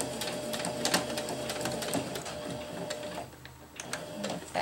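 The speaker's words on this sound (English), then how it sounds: "And now I'll just sew up to where I started" Sewing machine stitching a tie-out tab on a jungle hammock, a close, rapid mechanical ticking and whirring in uneven bursts with short pauses between runs.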